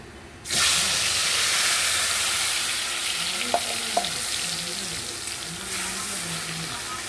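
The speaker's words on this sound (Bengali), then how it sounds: "জিরেটা ভাজা হয়ে গেছে এবার দিয়ে দেব বেটে রাখা মশলাগুলো" Ground spice paste dropped into hot oil with fried cumin, bursting into a loud, sudden sizzle that holds as a dense crackling hiss, while a voice hums or murmurs faintly underneath and a couple of light utensil taps sound.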